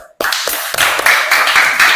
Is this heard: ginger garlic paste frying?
no